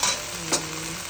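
Two eggs fry in a pan for a minced pork rice dish, a brief close, steady sizzle with a faint crackle partway through and no voices.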